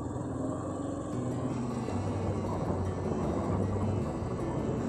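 A small camera drone flies over the town of Luís Correia near the port. Its motors give a faint, steady whine and hum over soft outdoor background noise, with no talking.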